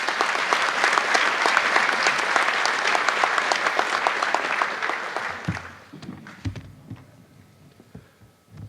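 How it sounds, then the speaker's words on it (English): A police graduation audience applauds the awardees, a dense, steady roar of many hands clapping that holds for several seconds and then thins out to scattered claps and room noise. "So another round of applause for those awardees"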